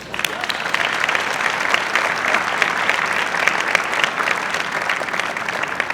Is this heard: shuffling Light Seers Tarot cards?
no